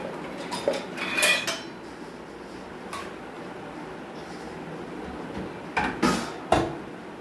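Metal kitchen utensils and pans clatter and clink in bursts as someone rummages through them for a knife, with quiet gaps between the louder jangles, close by and without speech.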